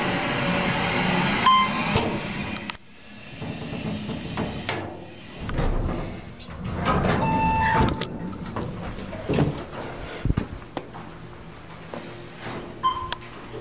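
An Otis Series 1 elevator at a Holiday Inn Express hotel in St Ignace, Michigan hums and rumbles in its cab, with doors sliding and thudding, a few chime tones, and clunks as it moves, close by.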